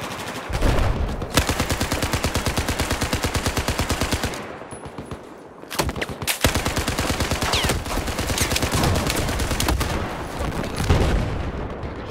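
A weapon fires in the video game Battlefield 4: dense, rapid, evenly spaced shots rattle in long bursts, break off into a short lull, then resume, loud and close.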